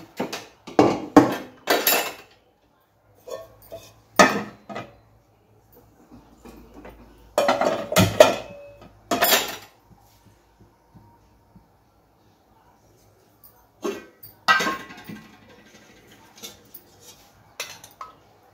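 Utensils clink and scrape against a pan and dishes while tempering is prepared for a gongura and bottle gourd curry, in sharp, irregular bursts of metallic knocks with quiet gaps between them.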